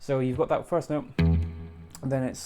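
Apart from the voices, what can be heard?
No distinct noise like a dog, phone or traffic.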